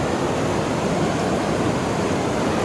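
The Sooke River rushes past at high velocity, a steady, dense roar of water with no breaks, close and fairly loud throughout.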